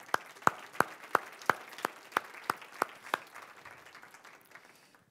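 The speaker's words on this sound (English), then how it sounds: "let's applaud Adele to the stage" A small audience at a talk welcomes a speaker to the stage with sparse applause, about ten distinct sharp claps at a regular pace that thin out and fade to quiet.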